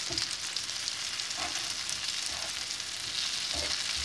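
Chicken schnitzel fries in a pan with a steady, bright sizzle and hiss, close up, dotted with small crackles and pops.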